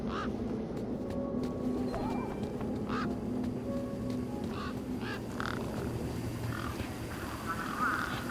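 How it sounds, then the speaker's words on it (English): Birds squawk and quack around a truck in the game Beyond a Steel Sky, several close honking calls scattered over a steady low ambient hum. "Those birds weren't going to let me anywhere near the back of the truck."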